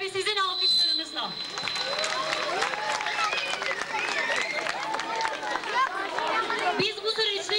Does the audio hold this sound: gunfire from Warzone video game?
no